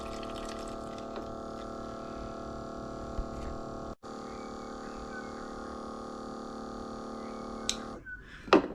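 An RC boat water pump runs through a large hose as a steady electric hum with a faint trickle of water, holding constant for about eight seconds before cutting off abruptly.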